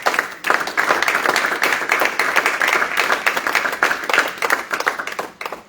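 A church congregation at a teaching meeting applauds, with dense, sustained clapping from many hands that fills the room close and loud for several seconds and tails off at the end.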